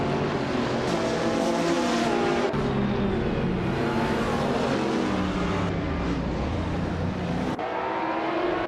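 Racing video game with an Audi R15 TDI race car leading the pack at Sydney Homebush: a dense, steady roar of many engines revving together, loud and continuous, with shifting pitch as the cars accelerate away.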